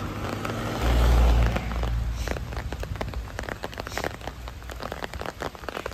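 Rain falls at Jhakri Falls Park near Gangtok, a close, steady patter of drops on nearby surfaces with a brief louder rumble early on, then continuing as scattered drips and splashes.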